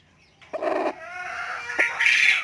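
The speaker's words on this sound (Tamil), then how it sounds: "இது ஒரு கோழி இப்போ தான் குஞ்சு பொரிச்சிட்டு இருக்குது. ஸோ அது கத்துறது கூட உங்களுக்கு கேட்கும்" A newly hatching chicken chick gives high, thin chirps and peeps that rise and thicken toward the end, with a brief lower clucking burst early on, close and fairly clear.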